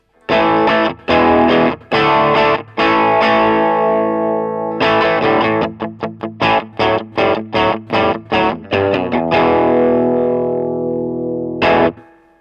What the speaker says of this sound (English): if I crank the preamp volume all the way up, and I'm just going to back off the master